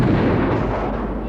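Dense, continuous battle gunfire from muskets and artillery in a colonial-era film battle scene, a loud rumbling roar of overlapping shots and booms with no clear pauses.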